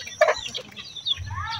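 Old native hens, nearly two years old and still laying, clucking on a farm in rainy weather: a few short, close clucks and calls with brief pauses and soft background rumble.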